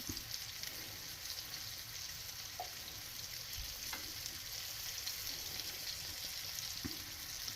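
Morel mushrooms fry in a non-stick pan with a faint, steady sizzle and a few small clicks of stirring, quiet and continuous with no talk over it.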